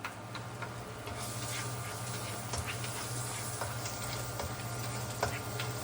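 Garlic sizzles in a pan during carbonara cooking, a steady bright hiss with faint scattered ticks and pops, fairly quiet, with no talking.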